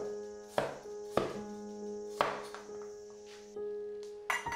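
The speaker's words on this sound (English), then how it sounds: "slice the cucumbers along its width with a thickness of about a centimeter" Cucumbers sliced crosswise with a knife into thick rounds, four crisp separate chops on a cutting board at uneven intervals, close and clear with quiet gaps between them.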